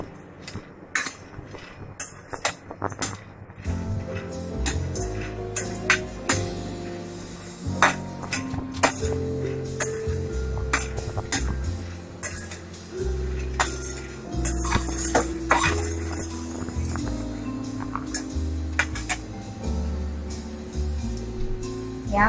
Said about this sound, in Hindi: हमें मीडियम फ्लेम पर ही इसे 4-5 मिनट के लिए भून लेना है